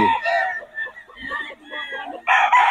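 Stag roosters at a farm, crowing and clucking close by in several overlapping calls, with brief chatter from people at the start.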